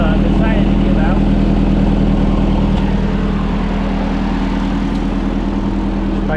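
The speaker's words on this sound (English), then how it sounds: "Our muffler has decided to give out." A 1951 Ford 8N tractor engine with a failing muffler runs steadily up close, a loud, rough, low throbbing idle with a raspy exhaust edge that never changes pace.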